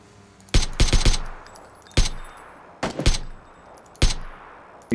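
Loud bursts of video game gunfire on a hilltop road, several rapid clusters of shots cracking out in quick rhythm, then single sharp reports spaced about a second apart, with a faint ringing tone between them.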